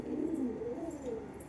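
Pigeons from Andhra Pradesh coo steadily and close up, a continuous low, throaty rolling call with no voices.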